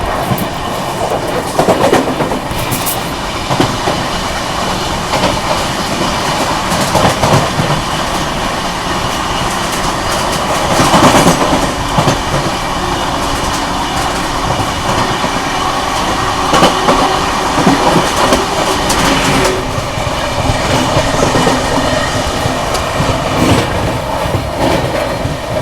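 The New Delhi–Prayagraj non-stop Humsafar Express runs at about 130 km/h, a loud steady roar of wheels and rushing air with repeated clickety-clack over rail joints, heard from on board.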